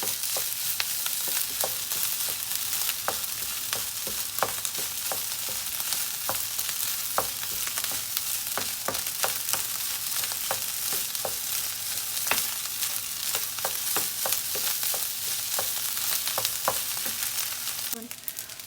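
Fried rice is stirred and tossed in a hot frying pan, a steady sizzling hiss punctuated by regular clicks and scrapes of the utensil against the pan, with no voices.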